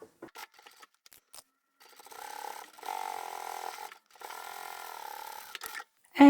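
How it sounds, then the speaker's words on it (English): A sewing machine stitches a fabric seam for a divided fabric basket in two steady whirring runs, separated by a short pause and preceded by soft handling clicks. "we're going to start from the top and stitch all the way to the bottom"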